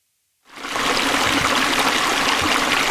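Flowing stream water from the video game Workers & Resources fades in from silence and then runs steadily, a continuous close rushing and trickling wash with no voices.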